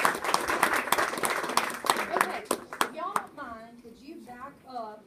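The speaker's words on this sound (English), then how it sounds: "Let's give them a round of applause for that." Audience at a Rett syndrome presentation clapping: about three seconds of close, brisk applause that then stops, followed by people talking.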